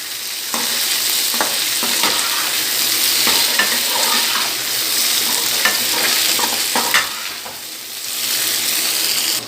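Semolina balls frying with onions in a pan, a steady close sizzle broken by repeated scraping and clinking as a spoon stirs them, with no voices.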